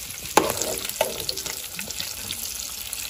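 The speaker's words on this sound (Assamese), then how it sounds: "আমি এতিয়া বাকী পিঁয়াজ আৰু বিলাহী চিলাহী এইখিনি ভাজি ল'ব লাগিব" Oil sizzles steadily with a crackling hiss as onions and tomatoes fry for a pork curry, broken by a couple of sharp clinks of a utensil against the pan.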